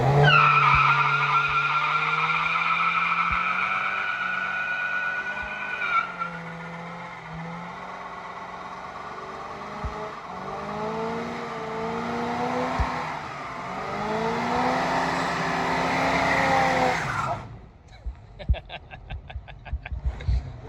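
Cars in a shop skid and spin their tires, throwing up smoke: a loud, sustained squeal with wavering pitch and engine roar that cuts off abruptly, followed by scattered clatter and quieter sounds.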